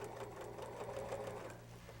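A sewing machine stitching a quilt seam runs steadily with a fast, even mechanical whir at close range, continuous for the whole stretch, with no talking.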